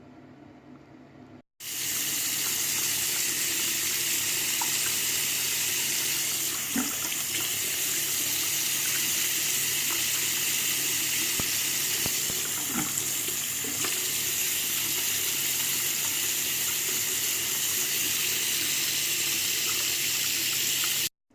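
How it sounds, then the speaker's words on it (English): Warm tap water runs into a sink for washing the face, a steady loud splashing hiss that starts abruptly, continues unbroken with small splashes and cuts off at the end. "now I'm about to wash it off with warm water"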